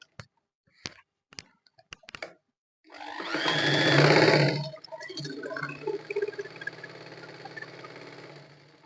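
A sewing machine stitches with loose, gappy stitches and overly tight thread that keeps breaking: a few sharp clicks, then a loud whirring burst of stitching that settles into a quieter mechanical run.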